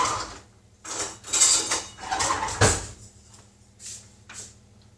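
Cutlery and kitchenware clatter as a knife is fetched during cheesecake making: several separate metallic clinks and rattles in bursts, close and fairly loud, with short quiet gaps between.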